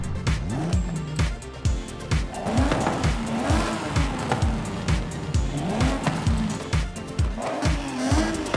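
A high-revving BMW M3 (E46) naturally aspirated straight-six with loud exhaust in Forza Horizon 5, climbing through repeated gear shifts with short drops between them, up close and continuous.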